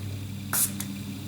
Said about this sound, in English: that was a nice little spray